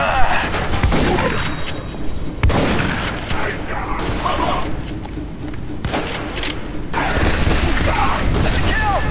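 Rapid bursts of gunfire from combat in The Bureau video game crackle almost continuously in the foreground, with several sharp louder shots standing out, alongside game effects and a voice in the background.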